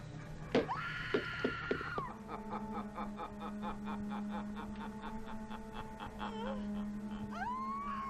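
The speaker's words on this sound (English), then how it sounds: "She has the best scream of anyone" A woman screams in a scene from the 1985 horror film Re-Animator, a sharp loud cry with short bursts near the start, followed by a steady hum, faint voices and another brief rising cry near the end.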